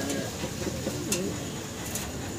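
Black Danish pigeons in breeding mood coo softly in low, rolling phrases, nearby and fairly quiet over a steady background hiss.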